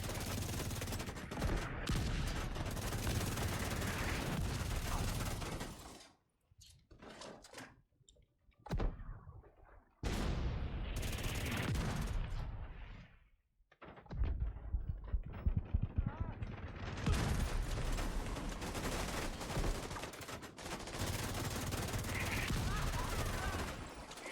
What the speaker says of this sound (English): Now fire everything we got and give them heck.